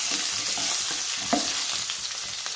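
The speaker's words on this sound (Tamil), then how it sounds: "இந்த பச்சை மிளகாய் போட்டு கொஞ்சம் லைட்டாக வதங்கினதும்" Green chillies and cumin seeds fry in hot oil with a close, steady sizzle and faint crackles, no voices.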